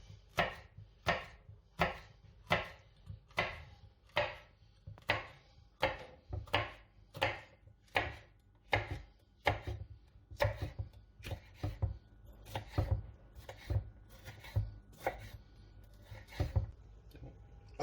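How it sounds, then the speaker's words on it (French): A knife cuts a red bell pepper into strips on a board, giving a long, steady series of crisp, evenly spaced chops, close and fairly quiet, with no one talking. "Pendant la cuisson, on va couper en lanières"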